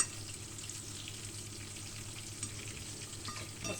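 Sardines frying in a pan give a steady, even sizzle at moderate level, with faint crackles and occasional small pops throughout.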